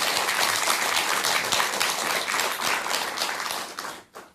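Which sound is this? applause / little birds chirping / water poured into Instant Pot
applause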